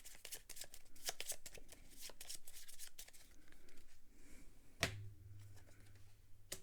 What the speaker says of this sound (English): we have to shuffle this barbarian deck because they'll be coming back at us